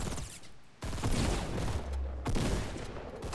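Three-round burst rifle fire in Fortnite during a close firefight, loud broadband bursts repeating in quick succession, with a louder cluster near the start and another near the end.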